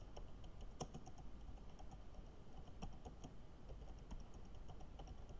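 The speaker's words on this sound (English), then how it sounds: "I'm just typing them in quickly." Quick, uneven clicking of keys on a computer keyboard, light and close, with irregular bursts and short pauses and no talking.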